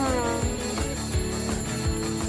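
Alarm clock ringing in a bedroom in the early morning, a bright, steady tonal ring repeated in short pulses, fairly loud and close, with no talking.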